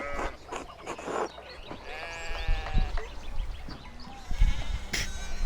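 Sheep bleat on a farm in a medieval-style video game, several wavering calls overlapping at close to middle distance with a low background murmur.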